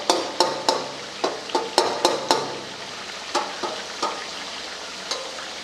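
Tomatoes mashed and stirred in a frying karahi for Peshawari chicken charsi karahi: a dozen sharp scraping and clacking strikes of a utensil against the pan, in uneven bursts over a steady sizzling hiss.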